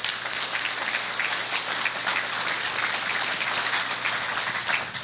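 A meeting audience in Rocky Mountain House applauds, a dense, sustained wash of many hands clapping at steady loudness throughout, with no speech over it.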